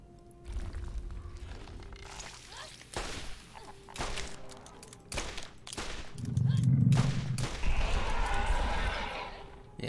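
Gunfire from the video game Borderlands 1 while farming Lilith: a string of sharp, loud shots with short gaps between them, plus a denser rumbling burst partway through over a steady background hum.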